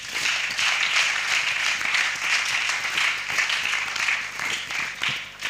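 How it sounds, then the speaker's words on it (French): Applause from a church youth gathering, steady broadband clapping from many hands that stays loud and sustained throughout without talk. "Est-ce qu'on peut applaudir les frères?"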